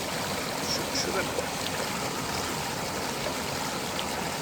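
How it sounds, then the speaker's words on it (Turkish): A waterfall pours down near a cave entrance, a steady broadband rush of falling water that holds evenly from start to finish. "Bakın arkadaşlar buradan şelale dökülüyor."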